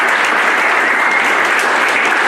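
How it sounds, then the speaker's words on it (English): An audience at a mobile home summit in Vallejo, California claps steadily, a dense, loud wash of applause with no voices on top. "Let's give her a big round of applause."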